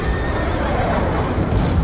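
A loud horse whinny in Call of Duty: Black Ops 2 rises over a dense, rumbling wash of battle noise during a cavalry charge, close and brief.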